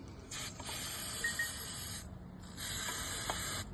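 Brake cleaner sprays in two hissing bursts onto the rear brake area of a Honda Transalp XL 750 motorcycle during a pad change, close and sharp with a brief pause between.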